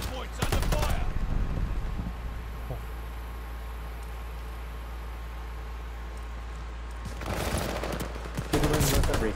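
Video game gunfire at a hard point objective: a loud burst of rapid automatic fire at the start, then quiet low ambience, then more rapid shots at the end.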